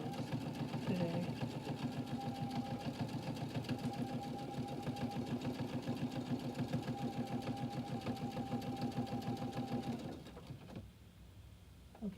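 A sewing machine runs in a fast, even stitching rhythm for about ten seconds, close and steady with a faint mechanical hum, then stops abruptly, leaving quiet room tone.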